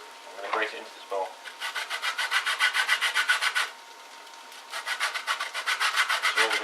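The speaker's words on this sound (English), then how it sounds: "I'm going to get my grater. I'm going to grate it into this bowl." Lemon zest being grated into a bowl, with rapid rhythmic rasping strokes of the rind against a metal grater in two long bursts separated by a pause, close and clear with no speech.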